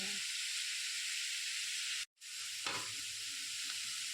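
Pickle ingredients frying in hot oil give a steady, bright sizzle with occasional stirring, broken by a brief silent gap midway before the hiss resumes.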